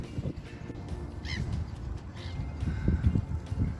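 Ducks on a cool, overcast pond give a few faint quacks and honks against a quiet outdoor background.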